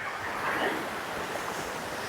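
Water of the Maharaja waterfall near Pushkar, a steady broadband rushing wash with a little wind buffeting, fairly close and continuous, with no voices.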